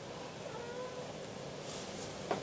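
A domestic cat meows softly a couple of times at a moderate distance, the calls faint over a quiet background hum with no talk.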